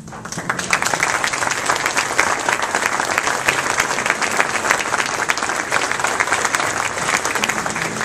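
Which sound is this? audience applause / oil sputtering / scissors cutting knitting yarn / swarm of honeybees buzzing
audience applause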